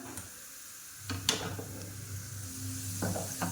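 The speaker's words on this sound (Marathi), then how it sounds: "आता त्यामध्ये आपण लसण घालणार आहोत आणि लसण चांगला फ्राय होऊ देणार आहोत." Garlic fries in a mustard-seed tempering for a dried chickpea-leaf dish, a soft low sizzle that swells after a second with a few sharp spatula taps against the pan.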